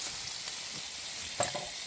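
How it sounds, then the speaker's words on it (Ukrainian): Five kilograms of potatoes fry in a giant pan at an outdoor forest kitchen, a steady hiss of sizzling oil with faint stirring scrapes and one brief louder clatter, close and with no talk. "Ну, тепер ждемо, поки вона буде смажитись."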